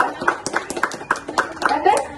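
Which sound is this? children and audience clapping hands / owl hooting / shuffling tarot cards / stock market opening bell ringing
children and audience clapping hands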